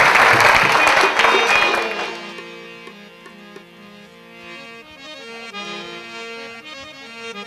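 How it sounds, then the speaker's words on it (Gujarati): A satsang audience at a Ramapir Satsang Mandal gathering in Chembur breaks into loud, dense applause that fades after about two seconds, giving way to soft music. "એકવાર જોરદાર તાળીઓના ગડગડાટથી અમને વધાવી લ્યો"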